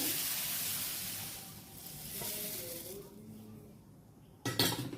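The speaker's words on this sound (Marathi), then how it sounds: "आता याच्यामध्ये मी हे भाजलेले मुरमुरे टाकते" Roasted puffed rice is poured into a pan on the stove for chivda, giving a soft, rustling hiss that fades, followed by a sharp metallic clink near the end.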